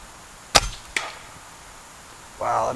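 An AF Condor air rifle fires CP slugs: a sharp, loud crack is followed quickly by a second fainter snap, then quiet, with a brief voiced sound at the end.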